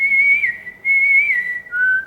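A person whistles a melody from the Hindi film Hero: clear, steady sustained notes with slight pitch glides, in two long phrases separated by a short breath, then a brief lower note. Loud and close.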